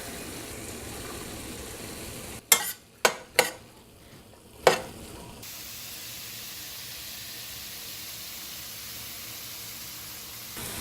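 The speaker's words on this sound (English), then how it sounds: "In goes our onions" Chopped onions fry in a pan with a constant sizzling hiss, broken by a few sharp clacks of a utensil stirring them before the frying settles back to a steady low crackle.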